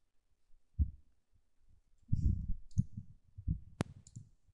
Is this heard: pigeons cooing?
no